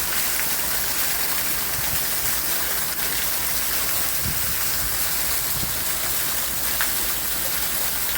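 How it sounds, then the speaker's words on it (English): Heavy rain pours steadily in a dense, unbroken hiss, with occasional louder drops hitting nearby surfaces. "A lot of rain, guys."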